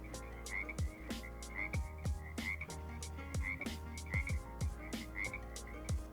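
Frog croaks play from an augmented reality card app. Short, raspy calls repeat at a steady, regular pulse for several seconds over a low electronic hum.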